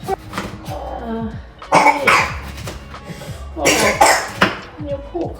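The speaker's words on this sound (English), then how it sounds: "Oh, your poor cough." A baby coughing in several separate bursts, some close together, over soft background sound at home.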